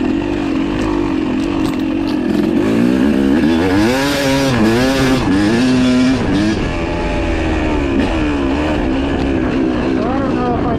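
Motorcycle engine revving at Prairie City SVRA's Wolf Track, the pitch rising and falling in sweeping waves with each twist of the throttle, loud and close and running continuously throughout.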